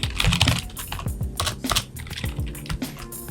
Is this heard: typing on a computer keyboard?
yes